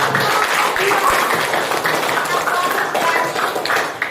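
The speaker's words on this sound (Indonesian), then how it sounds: "berikan aplaus" Audience applause in a hall following a presentation, a broad steady wash of many hands clapping that fills the whole stretch with little change in level, with a voice or two mixed underneath.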